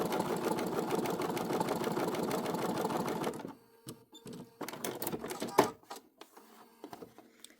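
A sewing machine stitches decorative rows of big-stitch seam binding on a quilt, a steady rhythmic whir for about three seconds, then stops, followed by scattered handling clicks and rustles.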